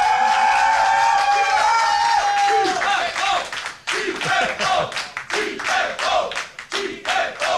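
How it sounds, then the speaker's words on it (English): A crowd at a StarCraft 2 esports event breaks into loud, dense applause and clapping after a sustained tonal passage, with cheering mixed in and rising and falling in waves. "And every time I throw it into the crowd and mention his name, TLO, the crowd erupts."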